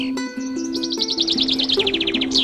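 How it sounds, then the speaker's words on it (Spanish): Birds sing on a morning near Villa Carlos Paz, loud and close, with a fast series of rising chirps and trills layered over steady tonal notes, continuous across the whole stretch. "el canto de los pájaros en la mañana"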